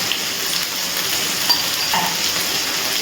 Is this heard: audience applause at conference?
no